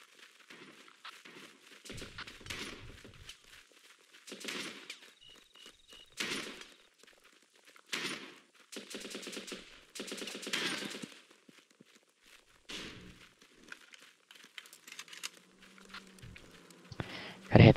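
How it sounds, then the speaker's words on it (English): Gunfire in the war game Running with Rifles: scattered short bursts of shots, some near and some farther off, popping in irregular clusters across the scene with brief quiet gaps between them. "Gunshots fired near"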